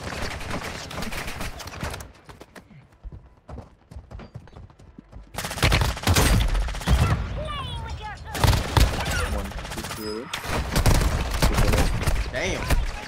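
Gunfire in the mobile shooter Warzone Mobile on Rebirth Island, dense bursts of rapid shots coming in waves, with voices talking excitedly over and between the shooting.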